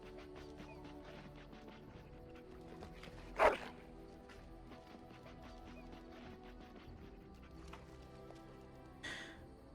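A dog in Dragon Age: Origins gives one short bark near the middle and a fainter yelp later, set against a quiet game ambience of soft music and clicks.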